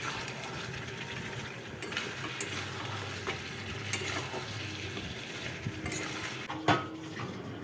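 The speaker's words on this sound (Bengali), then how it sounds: "মাংসটা কষা হচ্ছে" Goat meat and potatoes sauté in a pan, a soft steady sizzle under occasional utensil scrapes and light clinks, fairly quiet and without talk.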